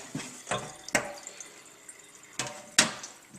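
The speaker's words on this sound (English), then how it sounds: "To get some of that ink rinsed off." Tap water rinsing ink off a Yudu screen-printing screen, heard as several short splashy bursts of running water spaced unevenly, fairly close and moderately quiet, with no talk.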